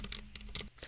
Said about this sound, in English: Durgod keyboard, and it's got silent red switches on it.